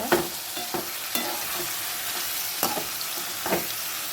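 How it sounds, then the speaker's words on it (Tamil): Sautéed bitter gourd is stirred in a hot pan over a steady sizzle, with a spoon scraping the pan in irregular strokes every half second or so, close and clear with no talking. "இப்போ நம்ம வதக்கி வச்சுருக்க பாகற்காய் இதில் நல்லா கிளறி வச்சுக்கோங்க"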